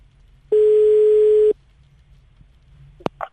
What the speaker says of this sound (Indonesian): Langsung aja kita telepon Pandu Winoto